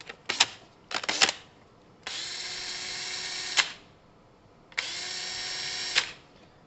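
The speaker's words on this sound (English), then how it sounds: "I've got a wet sponge on the drill." A power drill fitted with a wet sponge polishes the exhaust of a Kawasaki ZL600 motorcycle, whirring up in several short bursts and then in two long steady runs, close and fairly loud.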